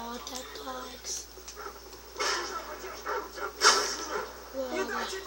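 Attack dogs in a shooter video game bark, yip and whimper in short bursts amid gunfire-era game noise, with a player talking over them throughout.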